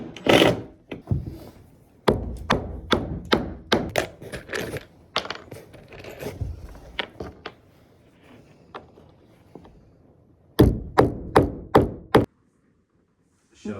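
A screw gun drives screws into wood framing during a farmhouse renovation, a string of sharp clattering bursts in quick succession, a pause, then another short run of hits, close and loud with no talking.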